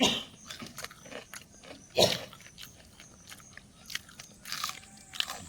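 An idli finger fry snack crunched close up, with a string of crisp, irregular bites and one louder crunch partway through, and no talking.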